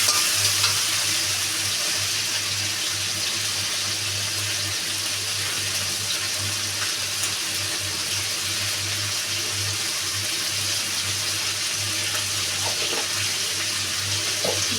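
Noodles frying in a pan with soy sauce and salt added, giving a steady, continuous sizzle with a low hum underneath, loud and unbroken throughout with no talking.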